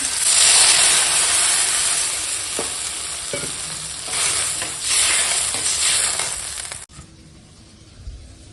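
Water poured into a pan of sizzling sautéed curry sets off a loud, dense hiss and roiling sizzle that surges and eases, then cuts off abruptly near the end, leaving quieter bubbling.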